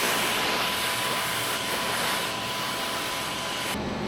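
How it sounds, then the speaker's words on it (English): A small vacuum sucks up wood chips left after CNC cutting a board, giving a steady, close, loud whooshing hiss with a faint high whine that runs unbroken until it cuts off near the end. "Little vacuum here."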